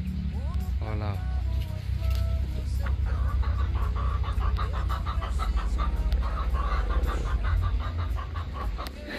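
A hen in a farmyard clucking in short, soft bursts amid steady background noise and other farm sounds, with a person talking over it.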